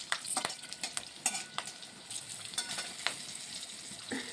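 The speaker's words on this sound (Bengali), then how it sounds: "ভালোভাবে কালো জিরা আর শুকনো লঙ্কা কাঁচা লঙ্কা ভালো করে ভেজে নিচ্ছি" Black cumin seeds with dried and green chillies frying in a pan, a soft sizzle under repeated scraping and stirring clicks from a spoon, quiet and close.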